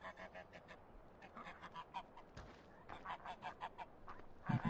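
Geese in a farm animal yard in Farming Simulator 15 honk and chatter in quick repeated bursts, fairly close, with a steady run of short calls and no talking.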